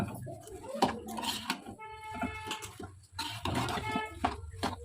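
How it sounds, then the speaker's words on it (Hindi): A spoon scrapes and clatters against a pan while a chickpea flour laddu mixture is stirred, giving irregular metallic knocks and scraping bursts, close and fairly clear with brief pauses. "चलाएंगे अच्छे से।"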